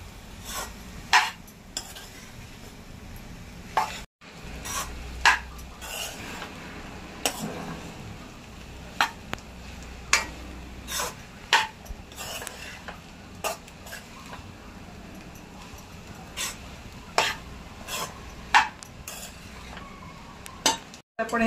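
Sabudana khichdi is stir-fried in a pan over medium heat, a long stretch of soft background sizzle broken by frequent irregular scrapes and clinks of a spoon against the pan, close and moderately quiet, with no talking.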